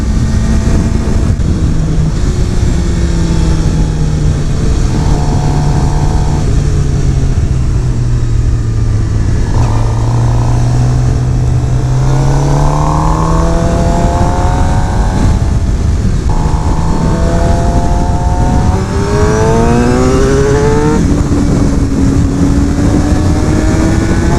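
A 2016 Suzuki GSX-R750 sport motorcycle engine revving hard through high RPM, loud rising and falling engine whine with gear changes, heard from the rider's position with heavy wind rush.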